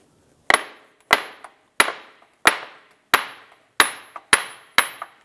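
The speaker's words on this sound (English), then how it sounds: "I'm going to strike the CV axle here to get that out of the transmission" Eight sharp metallic hammer blows strike a CV axle out of the transmission of a 2006-2011 Cadillac DTS, evenly spaced about two-thirds of a second apart, each ringing briefly, with a couple of softer secondary taps between them.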